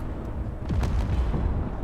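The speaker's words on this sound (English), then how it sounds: "I heard an explosion. Goodbye, ship." A spaceship blows up in the space game Space Engineers: a dull, rumbling low boom that swells and holds steady for a couple of seconds, fairly loud and heard alone.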